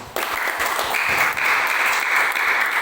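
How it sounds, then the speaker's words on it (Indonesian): Audience at a church commission outreach meeting in Kupang breaking into applause, a sudden onset of dense, steady clapping from a crowd that continues loud and unbroken for nearly three seconds. "Kita kasih tepuk tangan dulu."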